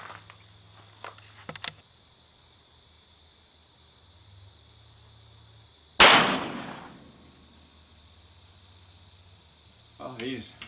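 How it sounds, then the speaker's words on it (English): A single sharp, loud gunshot from a Colt Single Action Army New Frontier .357 revolver fired off a rest, with a ringing decay. Faint clicks and handling noises come before and after it. "I'm going to shoot those off the rest because I'm still in the process of zeroing the gun"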